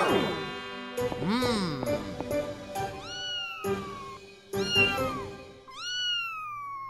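A cartoon kitten meows repeatedly in short, high, bending cries separated by brief pauses, loud and close, with soft chimes in the background.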